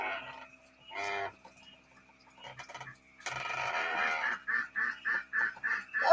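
A duck quacks on a house porch, a few scattered calls and then a rapid run of loud, evenly spaced quacks close by.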